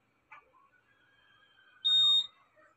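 A single sharp, high-pitched electronic beep from a Honda Click 150i scooter's anti-theft alarm set to loud volume, brief and fairly loud, surrounded by faint background sounds.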